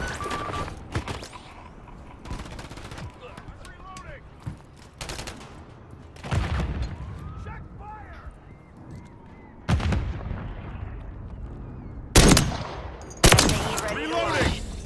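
Gunfire on the Highrise map of Call of Duty: Modern Warfare 3, with sharp, loud shots and bursts separated by quieter gaps that are filled with distant battle noise and faint echoing tails.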